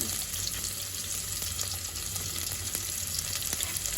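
Long-cut sliced onions frying in oil over a low flame for mutton liver cashew pulao, a loud continuous sizzle with faint scattered crackles and no talking.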